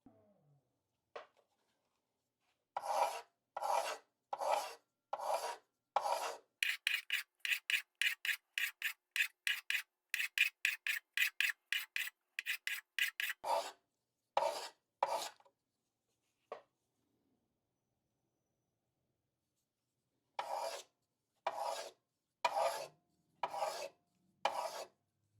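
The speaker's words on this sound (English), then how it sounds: "I'm going to start off by using just this flat piece of the belt sander without actual electricity" A rifle grip is hand sanded on the flat of an unpowered belt sander, giving close rasping strokes in bursts: a few slow passes, then a fast run of short scrubs, then more slow strokes, with silence between.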